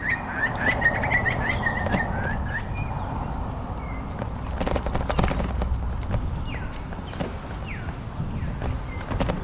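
A magpie swoops at a motorcyclist, its sharp chirps and calls cutting over a rhythmic clacking, with short bursts of wind and motion noise close to the microphone.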